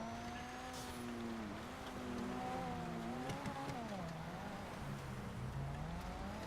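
A sports car is driven in GTA Online, its engine revving and shifting through gears with rising and falling pitch. It sounds steady and close, with no talking over it.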